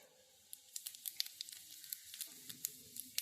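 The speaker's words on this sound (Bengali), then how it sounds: "এবার দিয়ে দিচ্ছি হাফ চামচ সাদা জিরে" White cumin seeds sizzle in hot mustard oil in a kadai: a quiet, close hiss dotted with small irregular crackles and pops.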